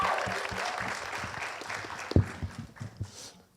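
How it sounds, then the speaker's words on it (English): Audience at a film festival industry panel in Atlanta applauding, a soft wash of clapping that thins out with a few scattered claps and light crowd murmur toward the end. "Yes, we are going to clap for everybody."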